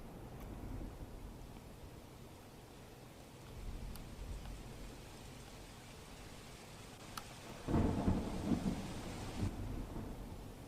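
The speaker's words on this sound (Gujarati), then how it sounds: "સાથે સાથે સોલાથી લઈને ગોતા વિસ્તારમાં પણ હાલ તો વરસાદ વરસી રહ્યો છે" Rain falls steadily during a thunderstorm in Ahmedabad after a long dry spell, a soft continuous hiss with a low rumble of distant thunder, swelling louder near the end.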